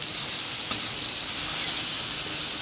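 Spices with cumin powder and salt sautéing in a pan for masala khichuri, a dense, steady close sizzle with one brief knock of a spoon and no voices.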